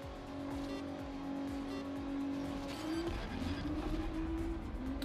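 A Ford GT race car in the Grid Legends racing game holds a loud, droning engine note that climbs in pitch through gear changes, with rhythmic whooshes of passing track and a steady, close engine tone.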